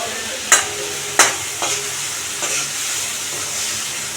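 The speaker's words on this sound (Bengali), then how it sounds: "একটু ভালো করে নেড়ে চেড়ে নিতে হবে। দিয়ে দেবো ক্যাপসিকাম" Capsicum frying in a pan sends up a steady, close sizzling hiss, punctuated early by a couple of sharp spatula knocks and lighter stirring scrapes.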